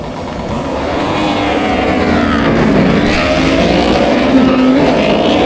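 Several motocross bikes launch off the start of an amateur race, their engines revving hard together into a loud, sustained roar that climbs and holds, with no talking.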